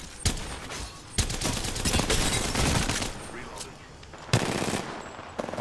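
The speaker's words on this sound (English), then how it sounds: "Those damn P20 rounds!" P2020 pistol rounds crack in rapid, sustained bursts during a firefight in the video game Apex Legends, with several sharp, louder shots standing out over continuous gunfire and a voice talking underneath.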